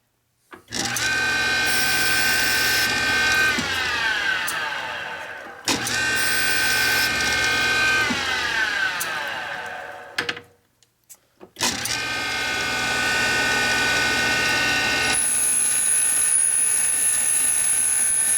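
A grinding stone works a valve on a 1983 Harley FLTC 80ci shovelhead engine rebuild, giving loud, close whining bursts that rise in pitch and then cut off, with three passes separated by short gaps.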